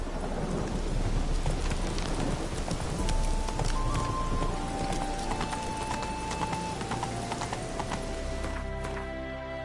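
Hooves of a galloping horse in The Witcher 3 pound steadily through a stormy scene, with rain and rolling thunder around them and a few faint game chimes, the clip-clop close and continuous.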